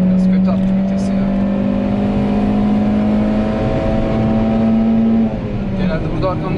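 A car lapping the Nürburgring holds a loud, steady engine drone that drops sharply near the end as a rough gear shift comes through, while a voice talks over it.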